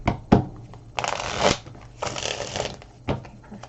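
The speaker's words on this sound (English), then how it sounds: "One more shuffle." Tarot cards are shuffled by hand in several quick bursts of riffling and sliding, close and crisp, with short pauses between bursts.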